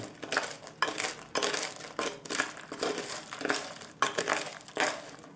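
Salted pistachios roasting on an oven tray are stirred, giving close, repeated rattling and crunching scrapes in bursts about every half second, with short pauses between strokes.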